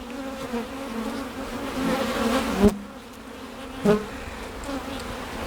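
Honey bees hum steadily at the hive, a close, continuous droning buzz with shifting pitch, broken by two short knocks, and no voices.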